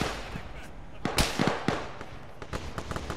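Gunfire in a tactical shooter video game: a string of sharp, irregular shots and cracks, some loud and close, others fainter, over a rumbling background with brief voices.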